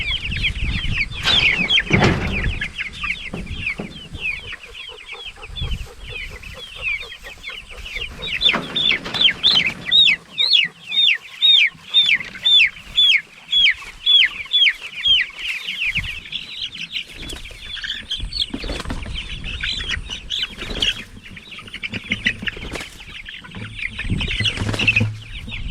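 Chickens in pasture pens keep up a steady clucking, with a rapid run of sharp repeated calls midway and bursts of wing flapping and scuffling nearby.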